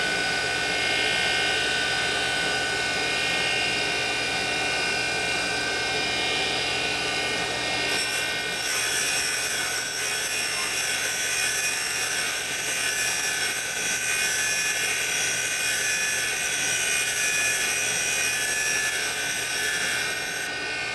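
Hard Harley-Davidson engine valves are ground on a valve grinding machine, a steady high whine that becomes louder and harsher partway through and runs continuously without talk.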